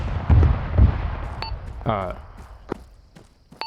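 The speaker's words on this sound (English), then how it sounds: "Ignore that gunfire." Gunfire in the Arma military video game: a few heavy, thudding distant shots early on, then sharp scattered cracks, with a voice speaking over it on the radio.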